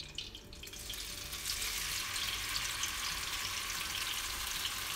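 Ground spice paste for eggplant balado sizzles steadily in hot oil as it is sautéed, a bright, continuous frying hiss that builds after the first second and stays even, with no talk.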